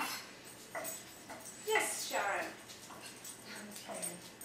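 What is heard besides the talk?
dog whimpering in the kitchen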